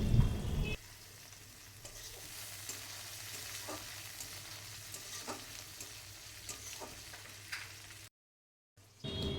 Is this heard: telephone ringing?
no